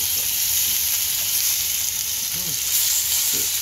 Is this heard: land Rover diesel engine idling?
no